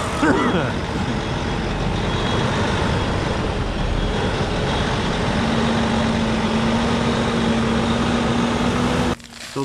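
A heavy dump truck carrying gravel, its diesel engine idling and rumbling close by as it reverses, a steady throaty drone with a faint whining tone near the end.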